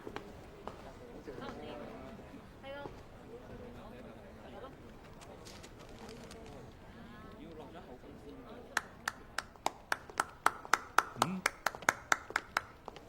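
A crowd claps for Zhang Sir after he rescues hostages, in an action-movie scene set around an underground fight club. Murmured voices and greetings come first, then a steady run of about a dozen sharp, close hand claps.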